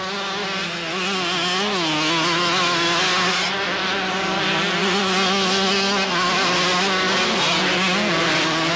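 Motocross dirt bikes race on a dirt track at the 1990 King of Dirt event in Bathurst, NSW. The engines whine and buzz steadily and loudly throughout, rising and falling in pitch as riders shift and work the throttle.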